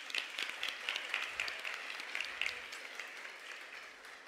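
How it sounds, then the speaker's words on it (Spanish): Applause from an audience at a regional oratory contest final in Panamá Oeste, a steady patter of many hands clapping for several seconds, moderately distant, with no speech over it. "Fuerte el aplauso."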